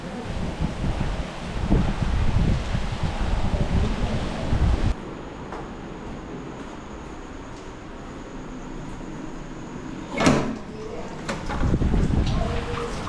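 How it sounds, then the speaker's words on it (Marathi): Cool wind blows in the green Konkan countryside during April rain, buffeting the microphone in loud gusty rushes that drop to a calmer hiss midway, with one sharp gust near the end. "वारा सुटलाय थंड वाटतं"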